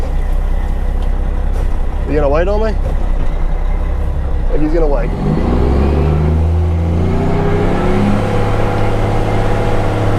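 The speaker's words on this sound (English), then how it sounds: "Whoop, we got a truck coming, hold on." A truck passes on a highway beside a county road, its loud engine rumble swelling and lingering as it goes by, with people talking briefly over the start.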